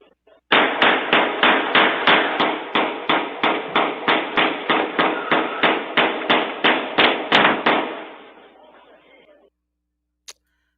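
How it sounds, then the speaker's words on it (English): Gunfire from a drive-by shooting picked up by a home Ring doorbell camera: a rapid, evenly spaced burst of about twenty loud cracks over seven seconds, trailing into echo, then one faint late shot. "This is just my Ring video of people airing shit out over north, just driving by and just shooting up shit."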